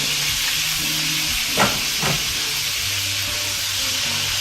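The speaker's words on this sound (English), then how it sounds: "I'm going to brown these about 4 to 5 minutes aside." Beef browns in a pan with a steady, loud hiss and sizzle throughout, broken by a couple of brief crackles, with no talking.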